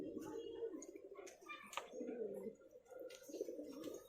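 A pair of dhumma pigeons, kept by a highflyer pigeon keeper in Nagpur, coo in soft, low, rolling phrases close by, with some quieter background sounds.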